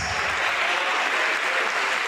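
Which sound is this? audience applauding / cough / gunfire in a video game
audience applauding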